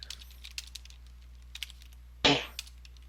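Light, quick keystrokes tapped on a computer keyboard in a quiet room, scattered and irregular, with one louder rustling clatter partway through.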